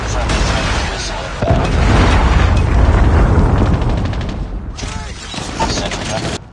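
A missile strike booms in a Call of Duty Mobile match. It comes as a loud, sustained rumbling blast that rolls on for several seconds, with crackling gunfire-like bursts and game voice chatter mixed underneath.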